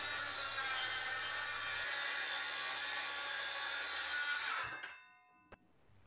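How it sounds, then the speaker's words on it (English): A circular saw rips through pieces of wood in one loud, continuous cut lasting several seconds, then winds down and stops, leaving near silence with a single faint knock. "I basically used my circular saw to do that."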